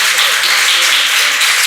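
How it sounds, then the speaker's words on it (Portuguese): A short burst of loud, close audience clapping for the cavaquinho player Osmar at a gathering of traditional Amazonian musicians in Acre, a dense crackle that stays full and even throughout. "quero uma salva de palmas para ele que está logo ali, seu Osmar do Cavaquinho"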